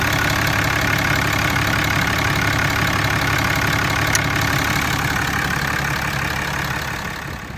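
A 6.7-liter Cummins turbo diesel engine in a 2014 Ram 2500 pickup idles steadily and loudly up close, a deep rumbling chug with a faint high whine, continuous throughout.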